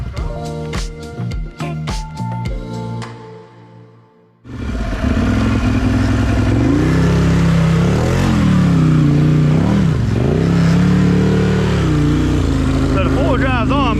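A brand new Can-Am Outlander 840 ATV revs hard while stuck in mud, its engine climbing and dropping in loud repeated surges after a few seconds of quieter sound, with people talking over it.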